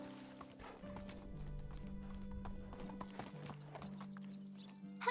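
Horse hooves clip-clop steadily in Medieval Dynasty, a rapid run of soft thuds at a quiet level under a low sustained musical drone, with no talk.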